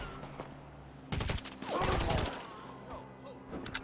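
Bursts of gunfire in GTA V story mode, a few sharp volleys and short clusters of shots over quiet game background.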